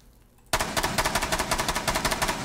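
Automatic gunfire in the tactical shooter Rainbow Six Siege bursts in suddenly from near silence: a fast, steady rattle of around twenty close, punchy rounds in about two seconds.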